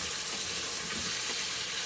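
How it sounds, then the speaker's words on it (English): Bacon sizzles in a pan, a soft, even crackling hiss heard faintly and continuously without voices. "in here I have some bacon that I am frying up"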